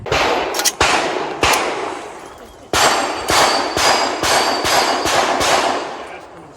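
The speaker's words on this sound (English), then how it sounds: "pulling the trigger to hit that steel as fast as possible" Glock G17 or G47 pistol shots at a GSSF match, each followed by the ring of steel plate targets, about ten sharp reports fired rapidly in two strings, loud and close.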